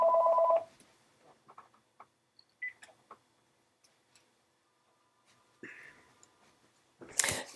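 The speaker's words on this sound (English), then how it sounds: "Sorry, I forgot to turn off my phone" A mobile phone rings with a brief, bright electronic tone at the start, followed by quiet scattered clicks and faint shuffling noises.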